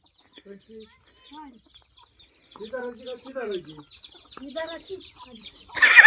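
Several chickens cluck close by in short, uneven bursts, quiet at first and building, ending with a louder rustling clatter.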